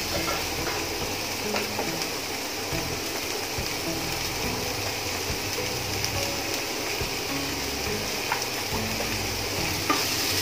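Onions softening in a pan with salt sizzle and crackle steadily, with light stirring scrapes and clicks throughout, close and fairly loud with no voices.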